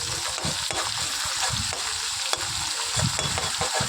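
Ginger and radhuni paste frying in a pan, a continuous hissing sizzle broken by repeated scraping stirs and small pops, close and moderately loud with no talk.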